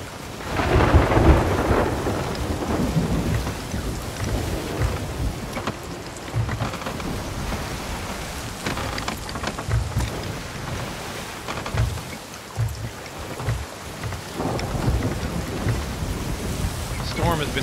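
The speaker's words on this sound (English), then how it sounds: "The storm has been dogging us this entire voyage." A thunderstorm rages at sea in the pirate sailing game Sea of Thieves: steady heavy rain and wind with loud rolling thunder cracks and rumbles, water washing around the ship, continuous and close throughout.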